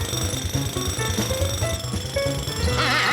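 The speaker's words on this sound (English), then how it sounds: "I'll turn off that jackhammer." Cartoon jackhammer pounding away at a closed construction site with a broken water main, a loud rapid hammering rhythm mixed with music-like tonal layers, steady throughout with no talk over it.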